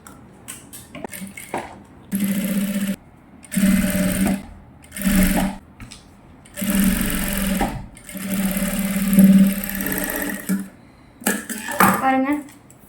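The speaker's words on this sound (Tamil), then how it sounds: "இப்போ பார்டரை இப்படி எடுத்து இதில் அமுக்கடி போடணும்" Sewing machine stitching a border onto a gown for a 6-to-10-year-old girl, running in several loud mechanical bursts of a few seconds each, separated by short pauses.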